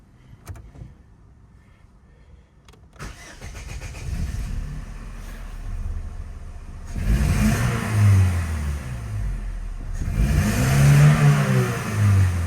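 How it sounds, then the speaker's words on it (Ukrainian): An Opel Vectra C, fitted with a replacement fuel pump, starts after a few quiet clicks, settles into idle, then is revved twice in rising, swelling bursts close by, with no talk. "Машина газується."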